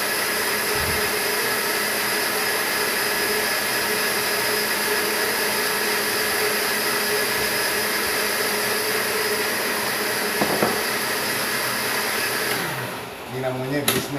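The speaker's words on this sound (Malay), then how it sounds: "Yang ni blender boleh cari kedai elektrik." An electric kitchen blender runs continuously at high speed with a loud, even roar for over twelve seconds before slowing and shutting off, leaving some faint clatter.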